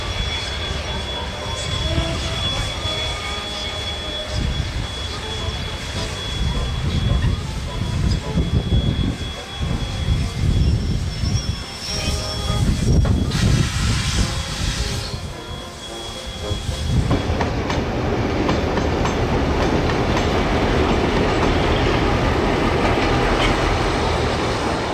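Steam locomotive Ja 1271 pulls an excursion train into Waiuku's Victoria Avenue station, with rumbling wheels, clanks and a squeal as it slows, giving way to a steady hiss, and a voice briefly heard.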